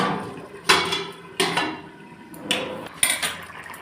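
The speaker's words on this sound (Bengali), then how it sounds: "এবার আমি আর একটু ঢাকা দিই" A lid is set on a pot of ridge gourd, potato and hilsa stew cooking on the stove, giving four sharp metallic clanks and rattles spread over a few seconds, close and moderately loud.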